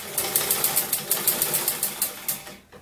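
A sewing machine stitches a seam on a fine silk jumpsuit, a fast, even rhythmic clatter of the needle lasting a couple of seconds before stopping.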